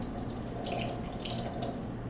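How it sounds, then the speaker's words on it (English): Whey poured from a pot into a cheesecloth-lined colander while making cheese curds for poutine, a steady close splashing, trickling stream of liquid running throughout. "we're gonna pour a little bit of whey in here"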